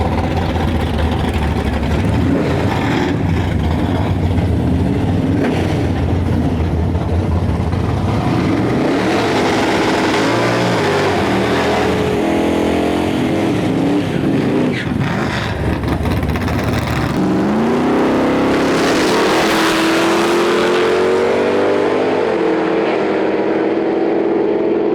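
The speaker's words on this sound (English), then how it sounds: "We have Ernie Cairn pulling up with his square body Chevy." Drag racing cars at Interlake Dragway during a Canada Day event, including a square body Chevy, loud engines idling and revving continuously, then a roaring launch with rising engine pitch sweeping past.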